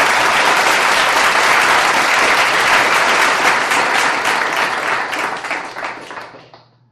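A studio audience gives steady, loud applause for a co-host named Doris on a family values show, a dense wash of many hands that holds for several seconds and then fades out.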